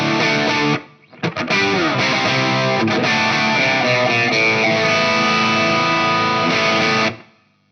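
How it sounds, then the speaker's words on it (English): Distorted electric guitar plays a rhythm part through an amp model on a Line 6 HX Effects unit with reverb switched off, a dense, loud crunchy wash of chords after a brief pause, ringing steadily for several seconds before stopping. "So now I've got the dirty sound of the amplifier."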